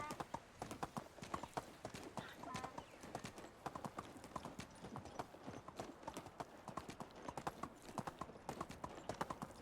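Horse hooves clip-clop steadily at a brisk riding pace in the medieval survival game Medieval Dynasty, close and continuous with an occasional soft whinny-like tone.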